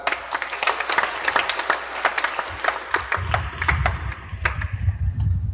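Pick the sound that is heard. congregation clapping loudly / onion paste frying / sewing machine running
congregation clapping loudly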